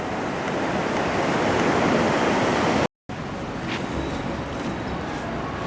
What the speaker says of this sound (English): We have some waves here.